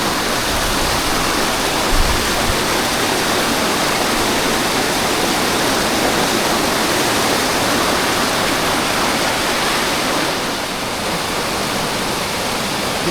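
A mountain stream on a Himalayan trek rushes steadily at a river crossing in the Jugal Himal area, a loud, continuous, close roar of flowing water with no pause.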